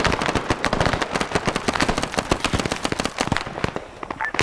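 Rapid bursts of gunfire and blasts from a grenade in a Vietnam War SOG rescue video game scenario, dense crackling explosions one after another, loud and close with no pause.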